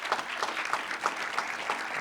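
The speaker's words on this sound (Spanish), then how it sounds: "Vaya a pedir un aplauso para Pol Rodríguez" A studio audience applauds a guest, a steady wash of many hands clapping at moderate volume, even and continuous.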